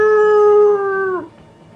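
A dog on a seashore lets out a single long, loud howl with a steady pitch that slides down and fades out near the end, heard alone with no talking.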